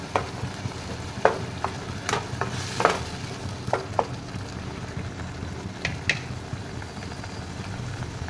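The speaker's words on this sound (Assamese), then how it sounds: "এইখিনি এতিয়া মই কম জুইত ভাজি থাকিম" Spice paste for chicken curry frying over low heat, a steady soft sizzle with scattered clicks and scrapes of stirring throughout.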